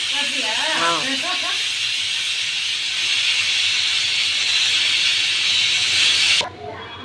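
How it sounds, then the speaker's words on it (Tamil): A steady loud hiss of bubbling and steam from a pot of mango and drumstick sambar boiling, with a voice briefly at the start, cutting off abruptly near the end. "சாம்பார் பாருங்கள் ஃப்ரெண்ட்ஸ், கொதிக்குது."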